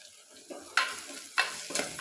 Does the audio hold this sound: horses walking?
no